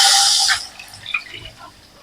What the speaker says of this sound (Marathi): आता आपण इथे 1 वाटी जे पाणी घेतलेलं आहे ते आपण ह्याच्यामध्ये टाकूया.